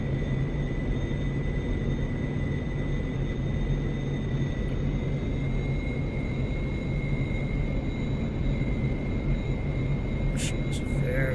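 F-104 Starfighter jet engine in the DCS flight simulator on final landing approach with flaps and gear down, a steady loud rumbling roar with a constant whine, continuous throughout at high power.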